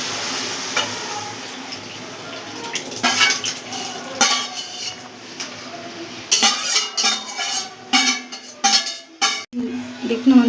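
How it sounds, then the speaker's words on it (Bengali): Dal poured into a pot of bottle gourd cooking with sugar, mixed with clinks of utensils against metal and a low sizzle, with bursts of stirring and scraping growing louder toward the end. "এর মধ্যে আমি ডালটা ঢেলে দেবো"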